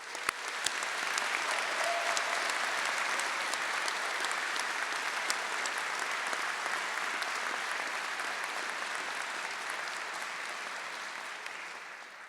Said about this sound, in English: Let us please give a round of applause to thank everyone who has been part of